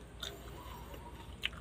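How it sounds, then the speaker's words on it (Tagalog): A fresh chili pepper of a salad variety is bitten and chewed up close, giving quiet moist crunching with a couple of sharper crisp bites, and no talking. "Tara, isang kagat pa dito."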